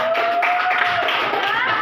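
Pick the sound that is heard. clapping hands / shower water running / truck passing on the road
clapping hands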